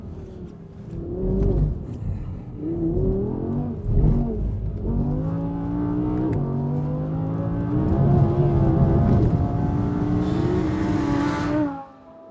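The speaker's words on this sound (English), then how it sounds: "It's one of the last normally aspirated cars of its type, and it sounds stunning." An Audi R8 Plus with a naturally aspirated engine accelerates hard, its loud engine note climbing in pitch through several gear changes over about twelve seconds before cutting off abruptly.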